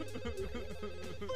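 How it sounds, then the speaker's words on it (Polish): A telephone rings inside The Sims Bustin' Out video game, a steady electronic ringtone repeating in short pulses at moderate volume with no talk over it. "Obierz ten telefon."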